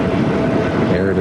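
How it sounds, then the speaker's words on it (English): A train rumbles past close by a golf course's railway hole during the 2004 Open Championship, a dense steady roar of wheels on rails throughout. "Look at the train, the railway hole."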